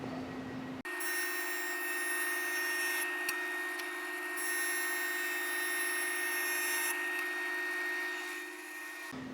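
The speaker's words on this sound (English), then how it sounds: "I'm going to go ahead and joiner the rough edge a few times" A wood jointer planes the rough edge of a board: a loud, steady motor whine with high cutter noise, the cutting pitch rising and falling across a couple of passes before the machine cuts off abruptly.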